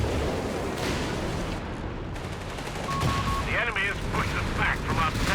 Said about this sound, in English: Zeroing artillery doesn't look very successful though.